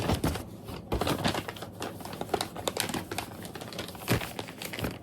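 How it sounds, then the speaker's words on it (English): Bath & Body Works paper shopping bags are folded and closed, giving a run of close, crisp crinkles and rustles with sharp papery snaps scattered irregularly throughout. "Let me just close up these bags."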